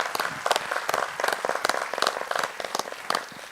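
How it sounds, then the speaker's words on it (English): Audience applause at a live true crime event, a steady patter of many hands clapping at moderate distance, fairly quiet and continuous without talk. "they deserve a big round of applause"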